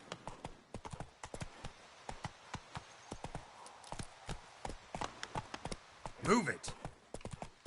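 In a PS4 game, the horse Roach gallops with rapid, continuous clip-clop hoofbeats close by, while a person talks briefly over them.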